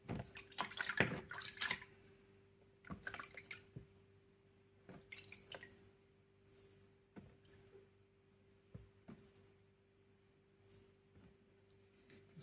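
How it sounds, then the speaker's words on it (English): A freshly sharpened knife rinsed under water, with soft irregular drips and splashes and a few louder watery bursts near the start, then quieter intermittent trickling, heard close. "So, wash your knife a little bit."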